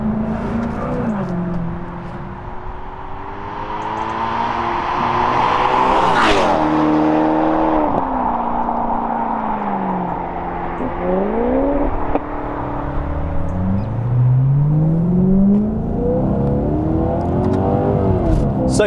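Maserati Quattroporte fitted with a Quicksilver exhaust system revving hard nearby, loud engine roars climbing and falling in pitch across several throttle blips, with a sharp crack midway and talk underneath.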